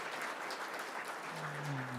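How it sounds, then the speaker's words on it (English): An audience at a university Hall of Fame ceremony applauds steadily, a moderate wash of clapping heard from some distance in a large room, with a faint low tone appearing near the end. "If we can get everyone to applaud"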